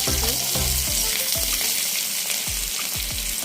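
Potato, eggplant and onion fry in a wok, a steady loud sizzle filling the whole stretch, broken by repeated low knocks of a spatula against the pan roughly every half second, with no voices.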